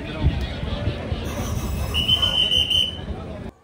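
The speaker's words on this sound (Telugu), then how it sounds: "అండ్ వచ్చేసింది మన అమృత్ భారత్ ట్రైన్" The orange Amrit Bharat train, hauled by a WAP electric locomotive, rolls into Renigunta station with a rumbling approach and a sustained high wheel squeal, amid platform crowd murmur.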